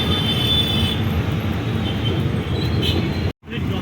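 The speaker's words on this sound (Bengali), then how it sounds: "এই যে মেট্রো ট্রেন" A metro train rumbles past nearby, a loud steady roar with faint wheel squeal, cut by a brief dropout near the end.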